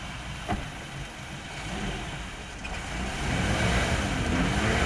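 Engine of a Chaparral boat on a lake test, with a suspected carburetor problem, running steadily at a low idle before the rumble grows heavier and louder as it is dropped into gear, a continuous close mechanical drone.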